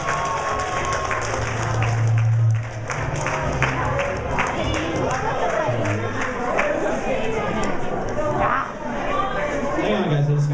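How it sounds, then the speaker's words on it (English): An audience at an anime convention game show claps and cheers in a sustained burst of applause, with crowd chatter and a host talking over it throughout. "another round of applause for you guys."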